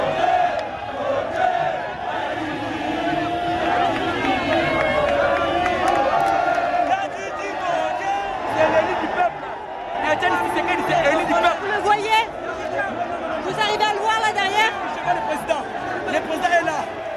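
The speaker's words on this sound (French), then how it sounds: "Des chansons en hommage à Étienne Tshisekedi, mais aussi des chants hostiles au président Kabila." A large crowd of opposition militants sings and chants along a motorcade route from the airport in Kinshasa, a dense outdoor mass of voices with rhythmic bursts of chanting swelling in the later part.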